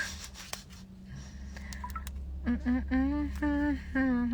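A few short electronic tones beep in sequence, like a phone being dialed, followed by steady harmonic tones against low background hum.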